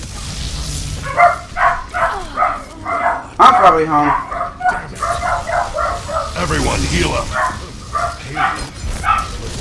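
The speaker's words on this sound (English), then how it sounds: "my dogs are barking" Repeated dog barks and yips come in quick bursts while a person talks over them, the barking close and fairly loud.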